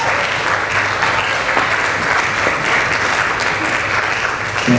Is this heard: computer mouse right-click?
no